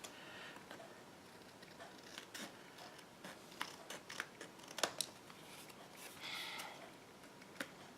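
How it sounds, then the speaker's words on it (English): Scissors trimming a paper craft piece in a stamping project, quiet irregular snips and small clicks spread through the clip. "let me trim this off"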